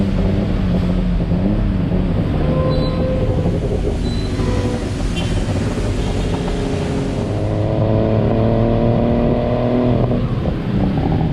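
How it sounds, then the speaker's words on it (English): A tuk-tuk engine drones and revs while riding through Bangkok, loud and close, with a shifting pitch and heavy wind rumble throughout. "Let's take tuk-tuk first."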